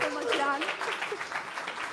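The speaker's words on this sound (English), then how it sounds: "Let's give Yann a big round of applause." Brief applause from an audience at a tech talk, fairly soft and partly under a speaking voice as one presenter hands over to the next.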